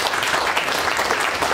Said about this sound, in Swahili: Mbe Yesu makofi ya utukufu pale